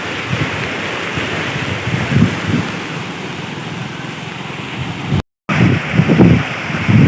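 Floodwater from heavy rain in Junagadh surges under a bridge near an overflowing dam, a loud, steady broadband roar with rolling surges and wind buffeting, heard alone.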